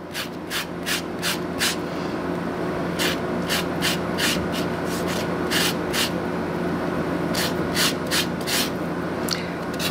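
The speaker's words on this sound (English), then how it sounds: "We'll shred up zest from 2 lemons." Two lemons are zested on a shredding grater, giving a quick, regular series of close, dry rasping strokes in bursts over a low steady background hum.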